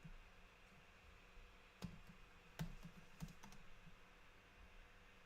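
Slow, sparse typing on a computer keyboard as a SaaS dashboard is worked on, with a handful of soft, scattered key taps over a faint steady hiss and no talking.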